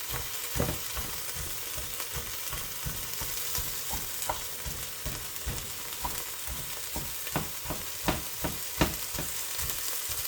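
Cooked Uncle Ben's rice is stir-fried on high heat, giving a steady sizzle with repeated scraping and chopping taps of a spatula breaking up the dry rice, close and with no talking.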